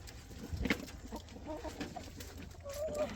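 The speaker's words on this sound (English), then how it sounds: "There's tons of chickens around you" Chickens cluck and murmur in the background, a few short calls scattered over a soft, steady ambient noise.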